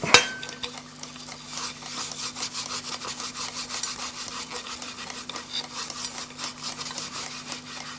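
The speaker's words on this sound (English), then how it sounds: "the little bit of 4/0 steel wool, remove the rust that's on there" A vintage Bradley Mickey Mouse alarm clock's metal alarm pillars being rubbed with fine 4/0 steel wool to remove rust, giving close, steady scratchy strokes in a continuous rhythm with a faint hum underneath and no talking.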